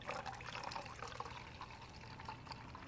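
Water pours slowly from the corner spout of a square stainless steel pot in a thin, steady trickle with soft splashing. It stays faint and continuous throughout, with no talking.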